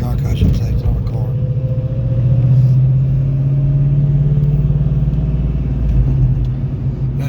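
A 1971 Ford F100 with a four-valve 4.6 V8, T56 Magnum gearbox and Crown Vic front end runs with a deep, steady rumble that swells slightly, heard under someone talking.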